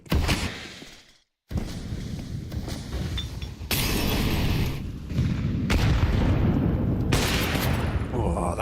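Grenade explosions in Counter-Strike 2 during a tournament match boom loudly amid dense, continuous gunfire, with a brief near-silent gap before heavy blasts resume and fill the rest of the stretch.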